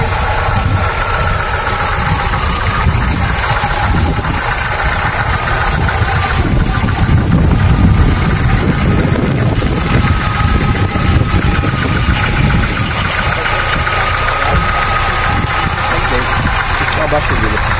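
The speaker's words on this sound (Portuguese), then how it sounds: "Vamos ligar o carro para vocês verem." A car engine idles steadily in Portugal, a constant low rumble with a faint rhythmic ticking, while someone talks over it close by.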